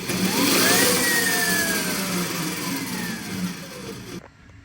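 An E Ride Pro SS electric buggy accelerates with a rising motor whine, loud and close, swelling early then easing off before the sound drops away at the end.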